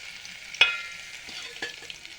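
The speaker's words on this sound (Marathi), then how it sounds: "आपल्याला कांदा इथे परतून घ्यायचा आहे" Onion sautéing in oil in a pan, with a soft, quiet sizzle and a few distinct stirring scrapes and clinks, close by and without speech.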